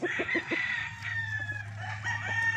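A gamefowl bull stag rooster crows close by, one hoarse drawn-out call running through the short stretch. A steady low hum sits beneath it, and some faint clucking is mixed in.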